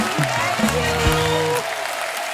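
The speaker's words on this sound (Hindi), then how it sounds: "जोरदार तालियां हो जाए हमारी टीवी की क्वींस के लिए" Studio audience on a TV comedy talk show applauds loudly as celebrity guests are welcomed, a dense continuous wash of clapping with a few brief harmonic voice-like tones mixed in, easing slightly near the end.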